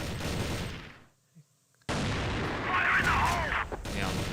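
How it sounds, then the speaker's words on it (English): Rifle fire in an online tournament match of a first-person shooter game, with loud sustained bursts of rapid shots broken by a brief quiet gap, then more heavy firing. "Picks up the rifle and is able to spray them both down."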